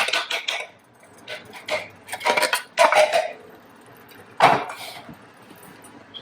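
A utensil scrapes and clinks against a pan while tomato sauce is stirred into cooking onions, with irregular metallic taps and scrapes in bursts, close and clear, with no talk.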